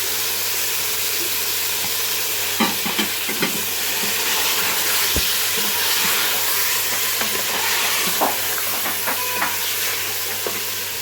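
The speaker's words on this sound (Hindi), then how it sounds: "अब हम इसमें ऐड करेंगे लहसुन और अदरक की पेस्ट, ये ऐड कर दें, इसे भी डालकर हम भून लेंगे।" Beef frying with garlic and ginger paste for a karahi, a steady loud sizzle and hiss throughout with occasional scraping stirs and clicks of a utensil against the pan.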